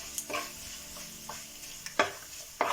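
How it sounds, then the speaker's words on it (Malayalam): Mustard seeds, dried chilies and curry leaves fry in coconut oil while a spoon stirs them, giving four sharp scraping strokes over a low, steady sizzle. "ഇതെല്ലാം ചേർത്തിട്ട് നമുക്കൊന്ന് ഇളക്കി കൊടുക്കാം."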